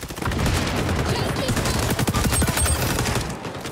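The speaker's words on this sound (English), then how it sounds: "Bro, that AK actually shreds." Rapid automatic AK rifle fire in the shooter XDefiant, a dense and continuous stream of shots close up that fills the whole stretch with loud sustained gunfire and no pause.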